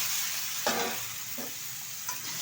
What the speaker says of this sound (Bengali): কিছুটা পরিমাণে কালো জিরে ফোড়ন দিয়ে দিচ্ছি